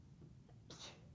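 A single short sneeze bursts out in a quiet classroom during a math lesson, faint and slightly distant, with a brief intake of breath just before it.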